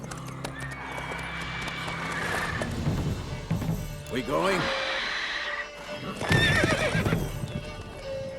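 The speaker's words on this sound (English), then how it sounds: "the game will tell you how to ride Roach, your horse" Roach, the horse in The Witcher 3, clip-clops at a run with repeated loud neighs and whinnies, hooves and calls close and prominent while a voice speaks briefly over them.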